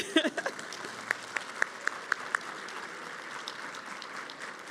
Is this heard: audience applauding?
yes